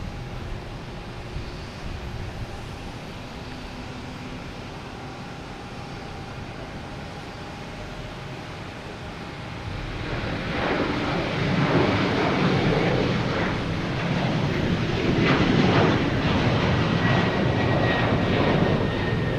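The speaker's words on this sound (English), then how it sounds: "next taking off is WestJet heading to Calgary, 737-800" A WestJet Boeing 737-800 departs Boston Logan for Calgary. A quieter stretch gives way to a swelling jet engine roar that builds loud and broad near the end, with some wind buffeting the microphone.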